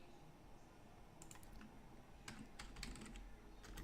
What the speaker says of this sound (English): Oh, my typing is terrible.